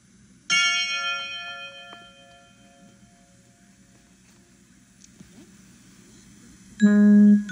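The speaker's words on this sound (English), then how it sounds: "here comes the page turn sound." A bright bell chime, a page turn sound, rings out and slowly fades, followed by a quiet pause, then a second short, loud chime tone at the end.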